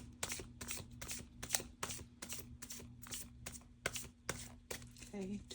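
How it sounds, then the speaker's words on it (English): Tarot cards are riffled and shuffled close up in quick, repeated bursts, with a faint steady hum underneath and a soft voice briefly at the end. "Okay, 2 more shuffles."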